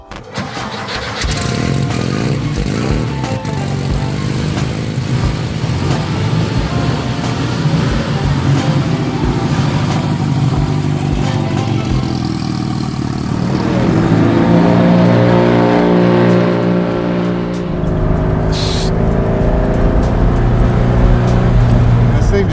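A customized 1967 Volkswagen Beetle with a turbo engine starts and drives, its steady mid-pitched engine droning and rising as it revs. People talk over the engine noise.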